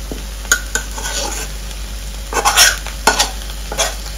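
Dried red chillies sizzling in hot oil as a tempering for moringa leaf fry, with a spoon stirring and scraping against the pan. There is a steady close hiss and several sharp metallic clinks and scrapes.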